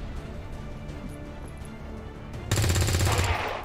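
Gunfire erupts in XCOM: War of the Chosen with the Long War mod, a loud rapid burst that follows a stretch of quiet ambience and fades off toward the end.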